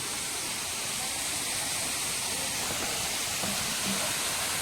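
Waterfall at an outdoor song-shoot location in a scenic village, a steady, dense rush of falling water filling the scene evenly and continuously, with no voices heard.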